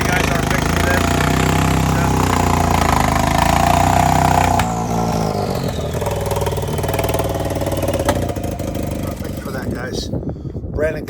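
Speed UTV race car number 576 with a broken exhaust idles loud and rough in the pits, its low engine rumble steady and then shifting in tone midway, while someone talks over it.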